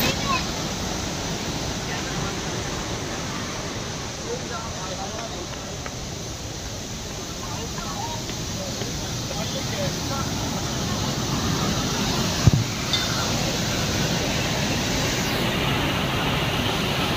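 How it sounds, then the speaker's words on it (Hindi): A steady, broad rush of Devi's Fall waterfall in Pokhara, Nepal roars continuously throughout, with a brief knock partway through. "ये जो आप झरना देख रहे हैं"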